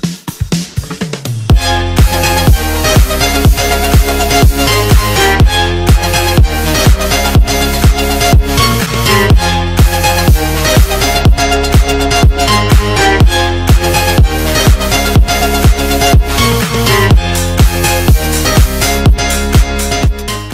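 An electronic dance music drop plays loud and continuous after a short quiet lead-in, with steady pounding kick and clap beats under bright, dense synth chords.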